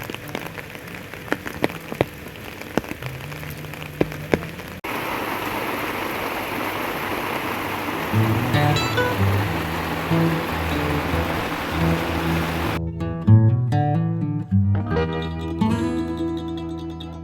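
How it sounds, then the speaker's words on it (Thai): Rain at a campsite in Sangkhla Buri, Thailand, during a heavy rainy-season downpour, a broad steady hiss of falling water with a shifting background and scattered clunks and tones partway through. "แม้ฝนจะตกตลอดวัน"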